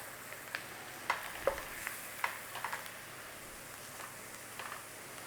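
Flour cooks in a pan with bacon and potatoes, giving a faint steady sizzle broken by a few soft clicks and scrapes of stirring, quiet and close with no talking.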